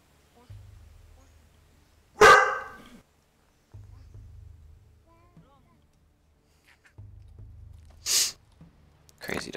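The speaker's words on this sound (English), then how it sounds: "Crazy dogs." Dogs bark in the video game Dawn of Man: two sharp, loud single barks stand apart from each other over a faint low hum, with quiet gaps between them.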